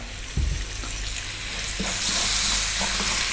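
Cooked black chickpeas (kala chana) with fresh chilies and salt being stirred in a pan over slightly above medium heat, a steady loud sizzle with scraping stirs and a clunk near the start.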